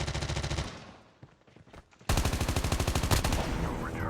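Rapid automatic gunfire from the mobile video game Call of Duty Mobile rattles in fast bursts, pauses briefly, then resumes in a dense, loud volley.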